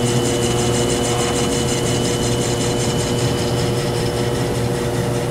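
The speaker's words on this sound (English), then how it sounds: "I'm going to turn on the lathe." A metal lathe runs steadily while set up to zero a rifle bore sight, giving a constant loud machine hum with a whine and fine rhythmic pulsing, alone with no talk throughout.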